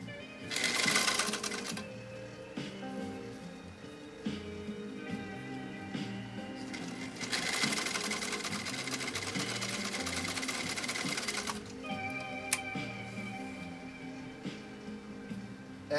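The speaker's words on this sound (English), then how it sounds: "We'll sew down one more row." A 1923 Singer 66-1 sewing machine with raised presser foot pressure stitches a row, giving a steady mechanical whir with two louder, faster bursts, close up with faint talk beneath.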